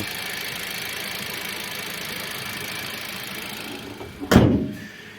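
A Kia Rio car engine idles steadily with a low, even hum, then a sharp loud thump cuts in near the end, like a door or hood closing.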